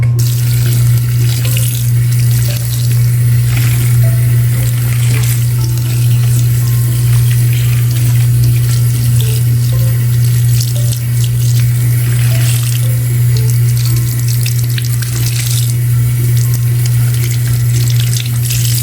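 Tap water runs steadily into a sink while a 1988 Super Star Barbie doll is rinsed and washed, a loud constant splashing stream with a low electrical hum underneath and no speech.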